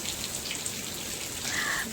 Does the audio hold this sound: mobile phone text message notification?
no